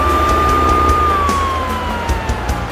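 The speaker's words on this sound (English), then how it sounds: "You can put your siren back on and get to your emergency." A cartoon emergency truck's siren wails loud and close, one long steady tone that slowly slides down in pitch, over a low engine rumble with faint clanks in the background.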